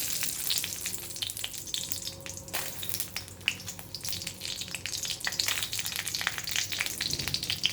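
Green chillies fry in hot ghee in a pan, giving a constant crackling sizzle with sharp pops and occasional stirring scrapes, close up and with no talk.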